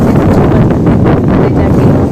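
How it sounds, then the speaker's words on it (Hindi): Strong wind gusting across an open mountain field in a Himachal Pradesh village in summer, a steady loud broadband rush buffeting the microphone throughout with no talk. "अभी इतनी तेज़ हवाएं चल रही है ना"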